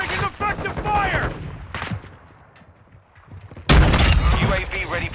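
Bursts of automatic gunfire and sharp shots from Modern Warfare 2 multiplayer, loud at the start and again near the end with a quieter gap between, under radio-style voice callouts.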